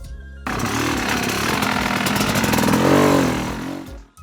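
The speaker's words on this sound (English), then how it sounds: "Listen to this next clip and notice how smooth and controlled my throttle and clutch are." Dirt bike engine revving under smooth, controlled throttle and clutch, a loud buzzing drone that rises and swells near the end before cutting off abruptly.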